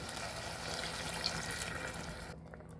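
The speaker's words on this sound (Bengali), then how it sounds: "দিয়ে দিচ্ছি চায়ের কাপে মেপে 1 কাপ পানি" Water, one teacup measure, pouring steadily into a hot pan of fried tomatoes, a broad splashing hiss that cuts off abruptly near the end.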